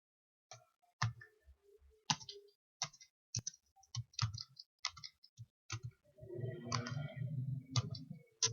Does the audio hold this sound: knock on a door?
no